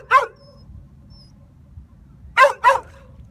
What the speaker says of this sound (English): Dog's got a bark to break glass